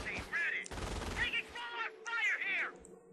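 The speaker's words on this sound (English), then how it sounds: "I like how effective the MG42 is at just shredding the health." MG42 machine gun fire in the World War II strategy game Company of Heroes, a dense burst of rapid shots in the middle, with someone talking over the battle noise before and after.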